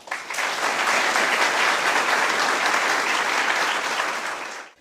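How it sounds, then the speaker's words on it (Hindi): A seated audience at a Heera Public School panel discussion on higher education applauds steadily to welcome introduced guests, dense continuous clapping that holds for several seconds before tapering off. "क्या आप लोग उनका ताली बजा के स्वागत नहीं करेंगे?"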